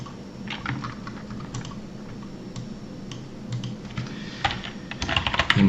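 Steady, close typing of Python code on a computer keyboard, a rapid run of crisp clicking keystrokes that grows busier and louder toward the end, with no talking.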